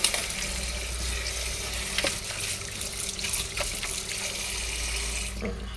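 Water pouring over grapes being washed, a steady close splashing stream running continuously from start to finish with a few small knocks, no voices.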